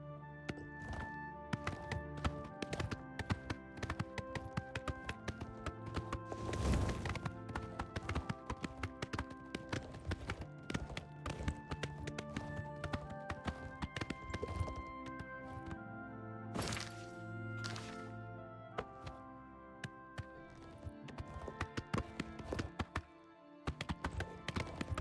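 Quick hoofbeats of a galloping horse in Oblivion Remastered pound without letup under a busy layer of game music and effects, with a few sharper knocks and thuds along the way.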